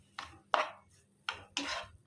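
Four separate spatula strokes scrape through a mutton cutlet mixture with coriander in a pan. Each is a sharp, close stroke that fades quickly, with short pauses between them.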